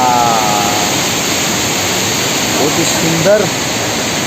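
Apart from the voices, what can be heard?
small waterfall at a picnic spot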